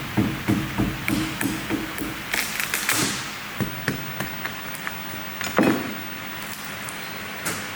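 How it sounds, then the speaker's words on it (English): A mallet tapping a spatula under a CNC-cut acrylic plate, giving repeated sharp, close knocks in an irregular rhythm over a steady machine hum. "I use the same spatula from the start with a mallet, and I carefully go underneath it and apply even force."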